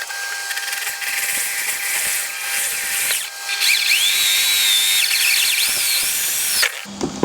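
A power drill with a 20–25 mm hole saw cuts holes in a small fish-pond filter tank. It gives a steady, close, high-pitched whine with squealing tones for about seven seconds, then stops abruptly.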